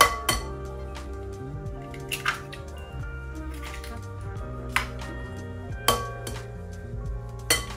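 Eggs cracked one after another into a good-sized bowl, roughly six sharp clinks of shell against the rim spread at uneven intervals over steady background music.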